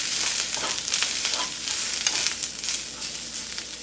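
Ramen noodles are tossed in oil in a hot pan, giving a steady loud sizzle with scraping, stirring rustles close by and no talking.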